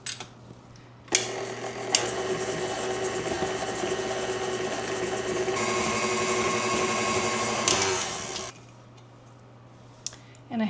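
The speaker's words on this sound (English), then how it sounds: "So I'm just going to beat together this butter and sugar." An electric mixer beats butter and sugar for a plum frangipane tart, a steady motor whir with a rattling tone running for about seven seconds before stopping, followed by a few small knocks.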